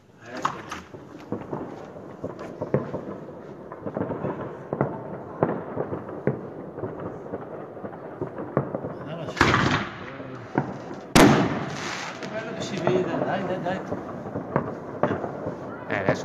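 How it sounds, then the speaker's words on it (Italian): New Year fireworks pop and crackle repeatedly in the distance, with a couple of louder sharp bangs standing out, while people talk close by. "si sentono i botti, apri che si sentono i botti."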